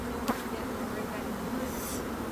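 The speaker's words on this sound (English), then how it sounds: "We're gonna shake all the bees into the bottom." Honey bees hum in an opened hive during a colony split, forming a steady, close swarm drone with a low tonal buzz and a brief louder pass from a single bee.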